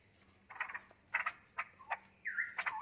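Young straw-headed bulbuls, a nest-mate pair of cucak rowo, give short burbling calls in bursts with small gaps between them, close by and clear against a quiet background with no talk.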